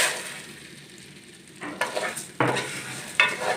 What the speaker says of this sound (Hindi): सवैयों को अच्छी तरह फ्राई करेंगे मक्खन में